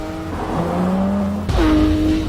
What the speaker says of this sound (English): Straight away, I can tell you the engine is incredible. There's no turbocharging, it's just a 4-litre flat 6